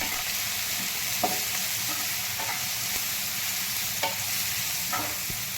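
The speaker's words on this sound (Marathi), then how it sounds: "आपल्याला हा कांदा चांगला परतून घ्यायचा आहे तांबूस रंगाचा होईपर्यंत" Onion being stir-fried in a pan with turmeric and salt, a steady close sizzle with periodic scraping strokes of a spatula roughly every second.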